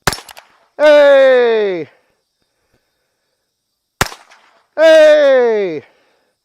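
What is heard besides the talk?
gunshots from a Ruger Wrangler .22 LR revolver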